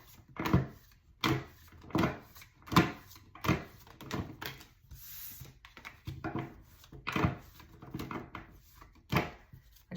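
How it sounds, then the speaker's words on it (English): A deck of cards is shuffled over and over, a run of crisp riffling bursts at a quick, uneven rhythm, close and moderately quiet with no talk. "I just want to get a good shuffle."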